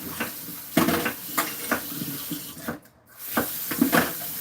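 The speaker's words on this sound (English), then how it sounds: "Let me run some dishwater." Tap water runs steadily into a kitchen sink to fill dishwater, a constant splashing rush with light clinks of dishes and a brief break midway.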